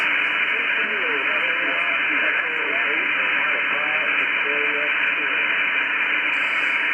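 Ham radio static hisses steadily, with a faint low-power QRP station barely audible near the noise floor and faint voice fragments buried in the hiss.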